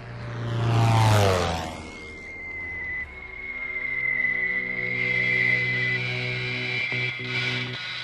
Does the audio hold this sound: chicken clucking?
no